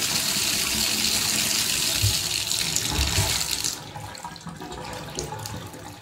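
Fast water pours down a freshly unclogged bathtub drain, loud and steady at first, then dropping to a quieter, thinner trickle partway through, close by with no talking.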